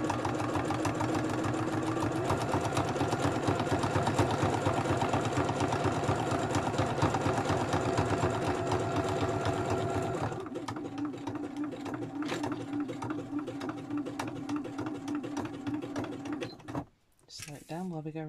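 A sewing machine stitches small handmade art journals with fabric hearts, a fast, steady mechanical chatter close up that shifts to a slower, lighter run partway through before a brief stop and restart.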